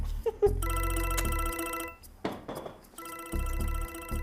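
A telephone rings in bursts, with loud electronic ringing tones broken by short gaps and a brief clatter in the middle, close and clear with no talking.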